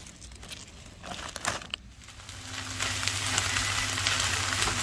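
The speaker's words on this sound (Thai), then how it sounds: "ก็อยู่ใน กระทะผัดซีอิ๊วแล้วนะคะ" Light crinkling and rustling at first, then a steady sizzle of food stir-frying with soy sauce in a pan builds and holds to the end.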